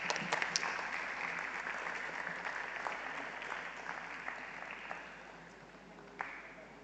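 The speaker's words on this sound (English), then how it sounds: "Let us express our heartfelt appreciation with a big round of applause." At a student conclave, an audience gives a round of applause, a fairly quiet spread of clapping that slowly thins out, with a few sharper claps near the end.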